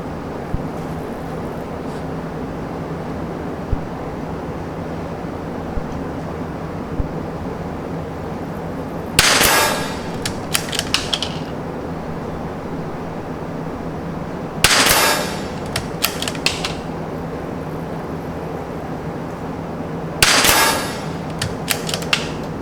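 A CZ and a Tikka .22 LR rifle fire groups outdoors. Three clusters of quick, sharp cracks come several seconds apart over a steady background hum.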